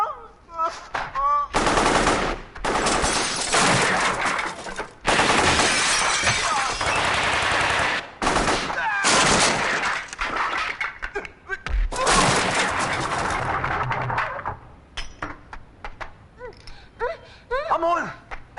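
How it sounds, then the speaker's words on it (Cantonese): Gunfire in a Cantonese action movie about a bank robbery, long loud bursts of machine-gun fire with breaking glass, broken by short pauses and shouting voices. "你咁都開槍！"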